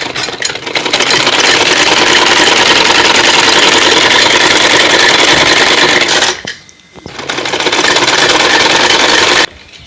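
A sewing machine runs fast and loud nearby, stitching wide elastic onto a child's shorts, a dense whirring rattle that stops briefly for a moment and restarts before cutting off.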